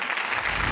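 A short burst of dense applause from a crowd, loud and steady clapping throughout.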